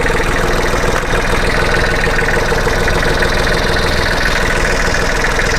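A Kubota tractor diesel engine idles steadily nearby, a loud, even rumble with a faint knocking rhythm running throughout, no voices.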